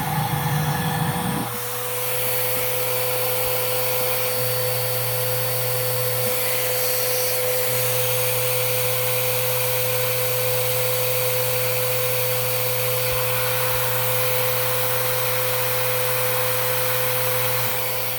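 A Miele Art S930 vacuum cleaner switches up to full suction on a hard floor, a loud continuous motor whine and airflow rush holding steady throughout.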